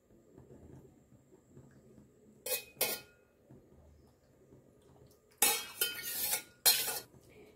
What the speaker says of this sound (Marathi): हे पुन्हा आपण मस्त मिक्स करून मंद आचेवर आता हा रवा खूप छान असा भाजून घेणार आहोत